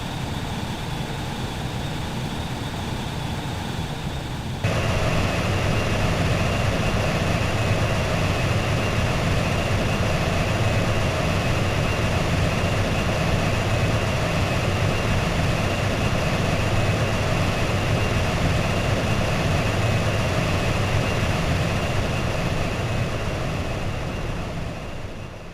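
Aircraft engine in Xenoblade Chronicles X drones steadily as the craft comes in to land, a dense, continuous roar with a faint whine, stepping up slightly in loudness early on and holding for the rest.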